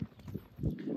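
Hooves of a criollo gelding clip-clop in a quick, close, uneven patter over about one second, with a sharper strike near the end.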